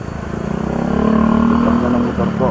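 A motorcycle engine idles close by and rises slightly with a steady, pulsing rumble, then settles as it runs alone.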